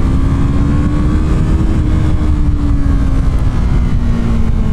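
A loud motorcycle engine revs close by, its pitch holding high and steady with a slight droop, a continuous buzzing roar with no speech.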